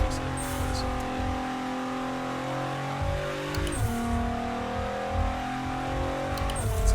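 Several race cars in the Corona MotorSport beta racing game run with steady, overlapping engine drones that rise and shift in pitch through gear changes, loud and continuous, with a voice talking over them.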